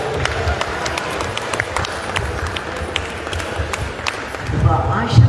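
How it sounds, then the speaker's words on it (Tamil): Applause from an audience at an ashram discourse, a light scattered patter of hand claps running throughout, with voices and louder room sounds rising near the end. "பெரிய பலத்தை கைத்தட்டல் கொடுக்கலாம்,"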